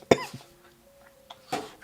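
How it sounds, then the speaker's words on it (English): A person gives a sharp, loud cough, then a smaller one, and a second cough follows after a quiet stretch. "as soon as I open up this is going to make me cough"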